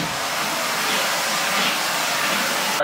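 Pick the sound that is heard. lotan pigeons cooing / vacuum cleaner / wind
vacuum cleaner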